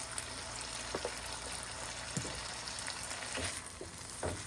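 Chicken seasoned with salt and white pepper fries on high heat, giving a steady broadband sizzle with a few soft clicks and pops scattered throughout, no voices present.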